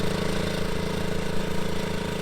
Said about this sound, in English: The engine note is maybe a little bit muted, but it has to be.